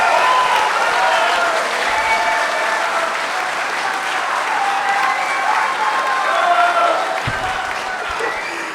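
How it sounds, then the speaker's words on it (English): An audience at a live podcast about Aston Villa gives a long, loud round of applause with dense steady clapping and crowd noise throughout, easing slightly toward the end. "that big round of applause"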